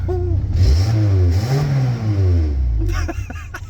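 A car engine revs up nearby, rising and falling in a strong, loud sweep before settling, then clattering as it drops back to idle.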